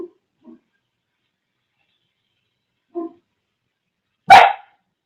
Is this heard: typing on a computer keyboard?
no